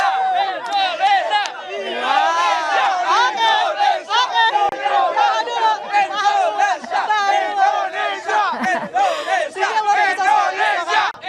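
Indonesian national football team supporters at Gelora Bung Karno stadium, Jakarta, before a match against Argentina: a dense, loud crowd roar with chanting and shouted cries, continuous throughout.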